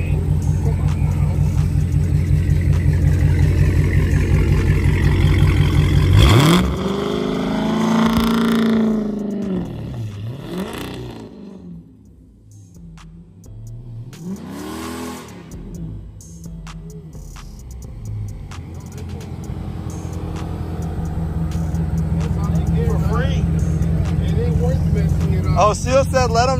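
A Dodge SRT 392 Scat Pack V8 revs hard on gravel, with loud rising and falling engine sweeps, a brief dip midway, then a sustained roar as the tires spin; voices talk over the engine.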